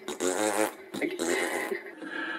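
A man makes mouth-imitated fart noises, buzzy lip-blown bursts broken by short pauses, close and fairly loud with his voice mixed in.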